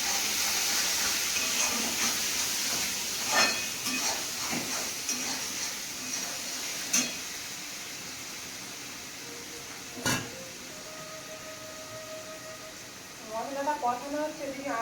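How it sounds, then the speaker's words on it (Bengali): Spice paste for a duck meat curry fries in a pan with a soft, steady sizzle and hiss, broken by occasional scrapes and clinks of stirring. "মশলাটা কষানো হচ্ছে"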